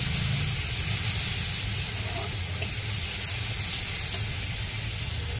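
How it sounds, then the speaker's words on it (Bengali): Spice paste of ground green chilli and turmeric powder sizzles steadily in a hot pan while being stirred, a continuous close frying hiss with soft low scraping underneath throughout. "এবার দিয়ে দেবো হলুদ গুঁড়ো, দিয়ে ভালো করে একটু নাড়াচাড়া দিয়ে দেবো"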